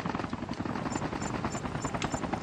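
Steady rapid chopping of helicopter rotors overhead in Call of Duty Mobile battle royale fills the scene, loud and continuous, with faint repeated high beeps in the background.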